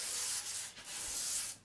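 Hand sanding of painted cabinet doors between paint coats makes a close, dry rubbing hiss in two long back-and-forth strokes with a brief pause between them.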